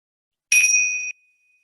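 A small meditation bell struck once, a clear bright ring that sustains for about half a second and then is abruptly cut off, close, loud and alone in silence.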